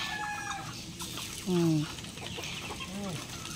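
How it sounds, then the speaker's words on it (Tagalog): Tagalog native chickens cluck nearby in a few short, separate calls over a steady outdoor background hum. "Yan yung mga manok naming Tagalog."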